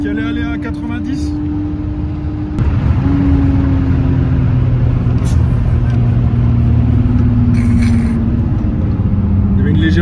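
A Lexus IS 200 engine runs with a close, steady drone that climbs in pitch as it revs, heard from inside the car with faint voices in the background.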